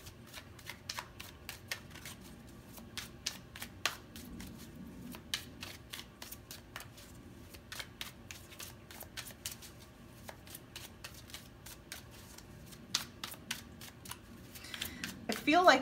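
Tarot cards being shuffled and drawn for a pick-a-card reading, a long run of rapid crisp riffling snaps at a steady rhythm, close and fairly loud, ending in a denser flurry with a voice faintly beneath.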